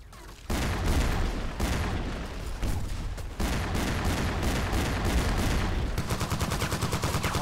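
Rapid gunfire in a soldier shooter game, dense bursts of shots cracking one after another for most of the stretch, loud and close, with a brief gap before the shooting starts.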